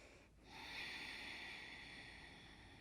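A slow, deep breath during a yoga session, a soft, airy inhale swelling and then easing away, faint and close, with no talking over it.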